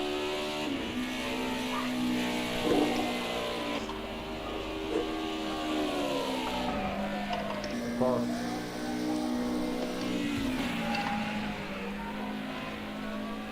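Mercedes-Benz race cars in a racing video game whine through shifting gears at mid distance, engine pitch rising and falling through the laps while a commentator talks over them.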